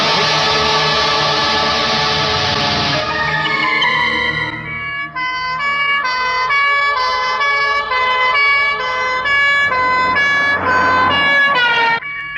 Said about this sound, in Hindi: एम्बुलेंस की आवाज यहाँ भी आ रही है।